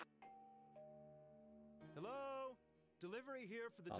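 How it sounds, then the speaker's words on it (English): Two soft doorbell chimes in the video game Persona 4 Golden, a faint ding-dong followed by a character speaking. "That was my doorbell again."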